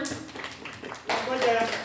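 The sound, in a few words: audience applause at a quiz competition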